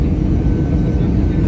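Broadband roar of an airplane cabin during landing at Budapest airport, steady loud engine and airflow rumble throughout with no distinct events.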